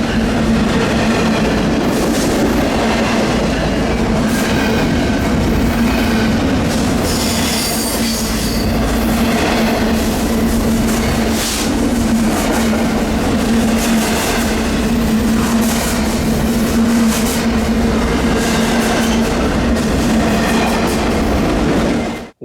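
A long freight train rolls past in Galesburg, Illinois, loud and close, its wheels screeching and squealing over a steady low rumble and clatter as it slows down.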